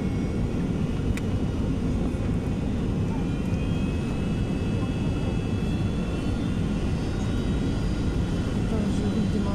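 Airliner descending on approach to land at Cairo airport, with a steady, loud cabin roar of engines and airflow throughout and a faint voice talking beneath it.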